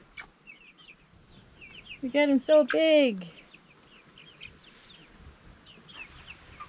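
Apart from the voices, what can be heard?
chickens clucking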